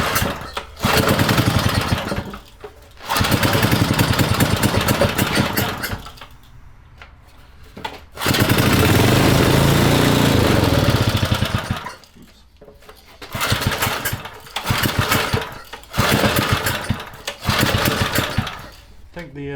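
Vintage 1970s mini chopper with a Briggs & Stratton engine running, revving up loudly in repeated bursts and dropping to a rough idle in between, with a person talking nearby.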